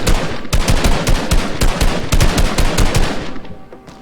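Rapid gunfire in Fortnite Battle Royale, loud close bursts of automatic shots in an uneven rhythm, about a dozen sharp cracks over a few seconds, trailing off near the end with no voices.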